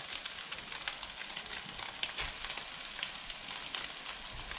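A prepared liquid pours into a hot pan of fried rice with onion, carrot and egg, raising a steady, bright sizzle with small crackles throughout and no voices.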